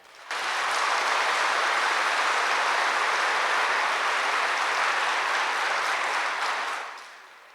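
Loud, dense audience applause at a spiritual gathering, a steady wash of many hands clapping close by that swells in quickly, holds for several seconds and then tapers off.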